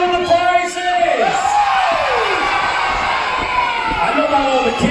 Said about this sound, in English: all the kids started cheering